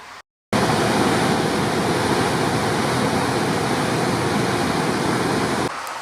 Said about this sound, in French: Cette cascade elle a un débit monstrueux, je vous laisse écouter le bruit.